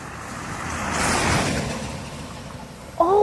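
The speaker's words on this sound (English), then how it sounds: "Hear the sound of a vehicle coming?" A vehicle drives past on a street, its engine and tire noise swelling to a peak and then fading away, heard alone with a brief sharp sound at the very end.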